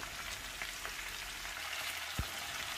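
Dry Kashmiri chilies and chili flakes sizzling steadily in a hot pan, a continuous bright frying hiss with a soft tap or two, no voices.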